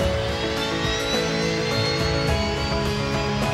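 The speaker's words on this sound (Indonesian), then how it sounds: "Pesawat-pesawat itu terbang dengan tertib." An airplane drones overhead with a steady, tonal engine whine and roar that holds evenly throughout, fairly loud and unaccompanied by any voices.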